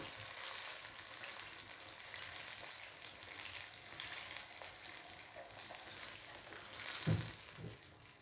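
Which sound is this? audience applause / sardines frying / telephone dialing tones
sardines frying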